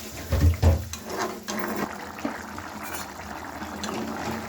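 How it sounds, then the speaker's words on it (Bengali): Water splashes into a dhaba-style kadai paneer simmering in a pan, a short loud pour at the start settling into a softer, steady bubbling hiss nearby. "একটু জল দিয়ে দিলাম।"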